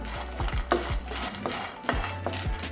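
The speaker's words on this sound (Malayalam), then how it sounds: "ഞാനൊന്ന് കളർ മാറാൻ വേണ്ടിയിട്ടാണ് ഇങ്ങനെ വറക്കണത്" Dry scraping and rattling of peanuts being stirred in a pan, with repeated clicks and knocks of a spoon against the metal; no voices.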